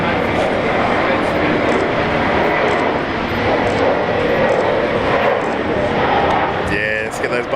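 An Airbus A321 takes off at Brisbane Airport, its engines roaring loud and continuous, with a brief rattle of nearby noise near the end.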